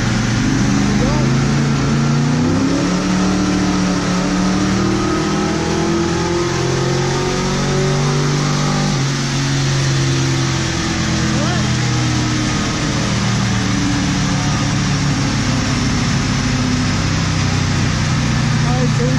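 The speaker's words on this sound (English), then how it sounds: "Now we're going to shift it to second gear and make our power pull and see what we get." A 1971 Ford Mustang with a 351 Cleveland V8 and Edelbrock carburetor on a wide-open-throttle pull in second gear: a loud, close, continuous engine roar with rising and falling pitch sweeps.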